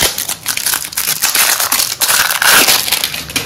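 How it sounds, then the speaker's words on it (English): Plastic wrapping is crinkled and torn off a Goldmedal travel adapter, loud and close: a rapid run of crackling, crumpling rustles with sharp bursts and no speech. "the travel adapter has been additionally packed with plastic wrapping"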